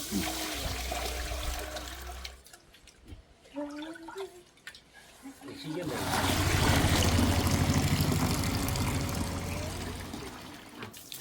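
Water poured and sloshed over ragi (finger millet) grains during washing, a loud steady running and splashing that swells in the second half after quieter, broken trickling at the start.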